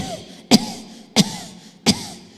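A person imitates coughing three times, evenly spaced, each cough short and sharp, with no speech around them.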